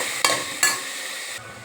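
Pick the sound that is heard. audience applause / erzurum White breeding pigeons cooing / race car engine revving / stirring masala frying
stirring masala frying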